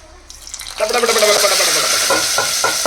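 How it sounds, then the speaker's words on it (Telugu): Tempering of spices bursts into a loud, steady sizzle in a pan after a quiet start, with hot oil crackling continuously close by. "ఇప్పుడైతే తాలింపు ప్రిపేర్ అయిపోయింది"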